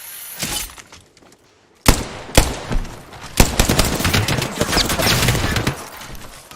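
Apex Legends gunfire: loud bursts of shots and shattering impacts break out after a brief quiet lull, then a dense, continuous volley of fire follows close up.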